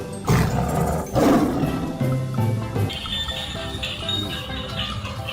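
A pink toy tiger plays a recorded roar, two loud bursts up close followed by fainter electronic jingling tones.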